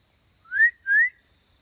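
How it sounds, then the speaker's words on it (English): Two short rising whistle notes, clear and close, blown to call a dog back outdoors at a mill, separated by a brief pause against near silence. "She knows. The whistle means come back."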